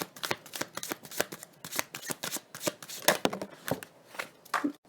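Tarot cards being shuffled by hand, a brisk run of papery riffles and slaps with an uneven rhythm, close and clear, with no talking.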